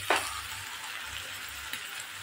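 Kechki fish fry in a pan with a soft, continuous sizzle, quiet and close, broken by a couple of sharper spatters or stirring clicks.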